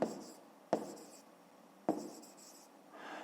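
A pen scratches across paper in three quick strokes, each starting with a sharp touch and trailing into soft scraping, close and quiet, followed by a lighter rustle.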